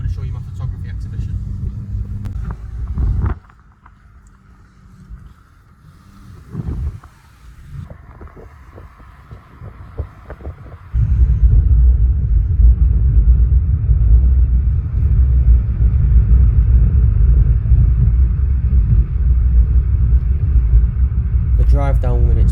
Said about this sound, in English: we're driving now on Edale Road